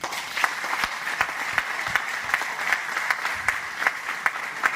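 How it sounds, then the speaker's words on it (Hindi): Loud, steady applause from an audience at a political rally, with dense clapping sustained throughout and sharp individual claps standing out now and then. "इतनी जोर की करतल ध्वनि होनी चाहिए कि आपकी तालियां 700 किलोमीटर दूर भोपाल तक पहुंचनी चाहिए"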